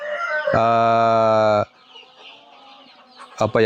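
KUB chickens raised for meat call out in a coop: one loud, drawn-out, strained call sounds close by, followed by quieter background clucking and a short sharp burst at the end.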